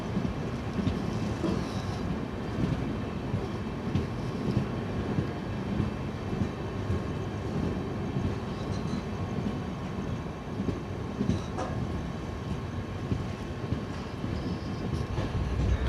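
Passenger train pulling out of Hubli Junction, heard from on board: a steady, dense rumble of wheels and carriage noise runs throughout at even loudness, with faint rattles and no voices.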